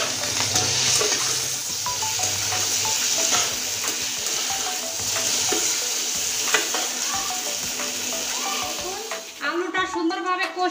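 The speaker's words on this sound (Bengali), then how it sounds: "আলুটা সুন্দরভাবে কষিয়ে নিচ্ছি" Potatoes are stirred and fried in a pan of sizzling oil, the steady close sizzle broken by repeated spoon scrapes, with a brief clatter near the end.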